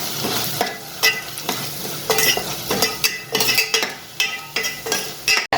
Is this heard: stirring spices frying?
yes